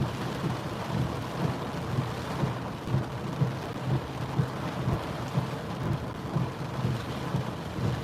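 Rain falling steadily during a drive through Philadelphia neighborhoods in a thunderstorm, a dense wash of patter with low rumbling and regular thumps throughout, no voices.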